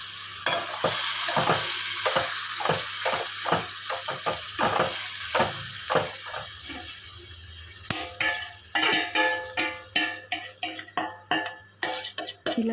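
Marinated chicken for a simple curry goes into a hot pan, giving a steady sizzle and frying hiss, with frequent metal clinks and scrapes of a utensil against the pan, close and fairly loud, no voices.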